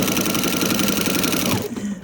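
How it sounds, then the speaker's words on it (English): A sewing machine stitches a quilt border with a loud, steady, close mechanical whir that runs continuously, then slows and stops near the end. "Now, I sew either on the previous stitching or to the inside towards the quilt."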